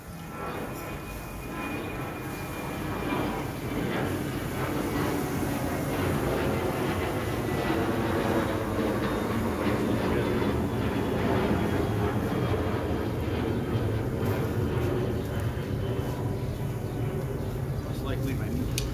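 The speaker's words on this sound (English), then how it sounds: "every time a plane comes over, I live right in the airport path" A plane passes low overhead above a home that sits right under an airport flight path, giving a steady broad roar that swells and holds for the whole stretch, with background voices faintly underneath.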